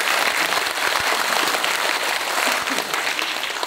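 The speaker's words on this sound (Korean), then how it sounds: "뜨거운 박수 부탁드립니다." Audience applause fills a dementia prevention campaign event hall, a dense, steady clapping that holds loud and continuous from start to finish.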